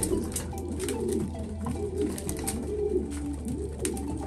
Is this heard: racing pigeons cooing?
yes